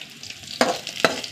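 Onions fry with dried red chillies and curry leaves in a pan, a steady close sizzle broken by two sharp stirring scrapes.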